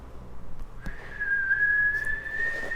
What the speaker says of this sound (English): All whistle, all turbo whistle.